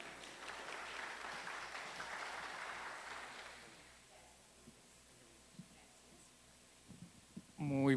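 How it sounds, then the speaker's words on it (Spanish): Applause from a crowd rises briefly and fades away after a few seconds, leaving a quiet hum and a few faint knocks. "Recibámoslos con un fuerte aplauso."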